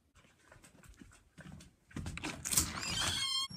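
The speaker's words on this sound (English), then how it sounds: "He's my pet dog." A pet dog panting close by in quick, breathy bursts that grow louder and more continuous toward the end.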